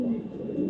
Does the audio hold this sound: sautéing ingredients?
no